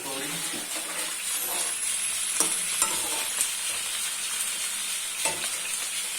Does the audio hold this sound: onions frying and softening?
yes